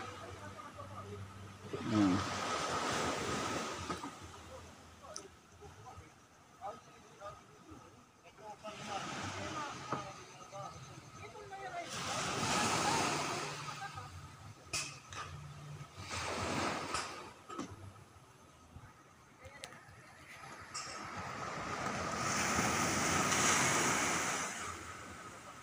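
Ocean waves wash onto the seashore beside a breakwater in Barangay Capitan del Sur, Gamay, Northern Samar, faint surges that swell and fade under someone talking, mixed with wind buffeting.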